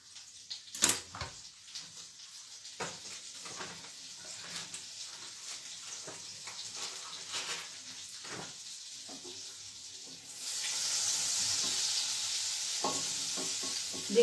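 Three tablespoons of butter melt and sizzle in a pan. Scraping stir strokes come in bursts, and the frying hiss grows steadier and louder toward the end.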